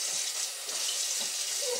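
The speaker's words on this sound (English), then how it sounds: "I'm gonna give my hands a rinse because my eyes are gonna burn a little bit." Kitchen tap water running steadily as hands are rinsed at the sink during dinner prep after mincing onions, a continuous close splashing hiss with no talk.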